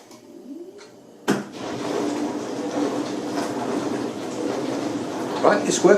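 A repaired dishwasher runs with the door closed: a sudden start, then steady loud churning and sloshing with faint ticks and clicks, while someone talks over it.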